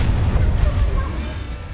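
A fire spell cast in the Hogwarts Legacy video game during a wizard duel: a loud, low rumbling burst of flame that roars steadily for under two seconds before easing slightly.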